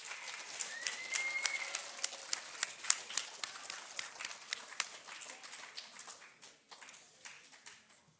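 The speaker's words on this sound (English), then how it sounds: "Give him another round of applause." Scattered applause from a modest audience, steady clapping that thins out over several seconds, heard from a distance.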